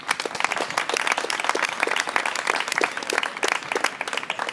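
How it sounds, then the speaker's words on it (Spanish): A crowd at a political talk in Albolote on sovereignty and democracy claps for a speaker, sharp individual claps clearly audible in a lively, uneven burst lasting a few seconds. "Un gran aplauso para Sergio."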